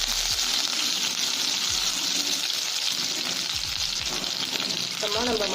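Mustard seeds, urad dal and curry leaves frying in hot oil for senai kizhangu fry give a steady loud sizzle, with faint crackling pops and brief voice-like tones near the end.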